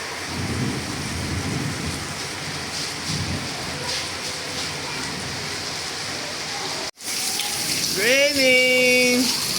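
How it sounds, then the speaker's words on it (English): Heavy rain pours steadily in Enugu while thunder rumbles low beneath it, a dense, loud wash of drops on surfaces; after a brief cut, a voice begins speaking over the downpour. "And it's still raining"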